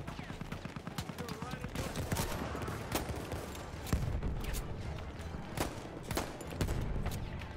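M1911 pistol shots in Battlefield 1 ring out as sharp single cracks at irregular intervals, mixed with other gunfire around them. The overall level is faint and distant, and the shots stand alone without talk.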